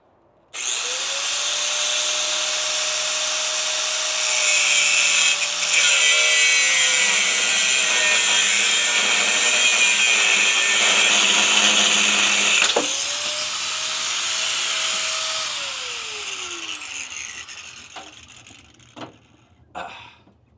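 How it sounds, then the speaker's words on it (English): An angle grinder with a cutting wheel spins up and slices through a fender part on a Kenworth T680 truck, a loud steady whine lasting about fifteen seconds before winding down, followed by a few clanks. "So I'm probably gonna go grab my grinder with a cutting wheel. And we're probably just gonna cut that thing off."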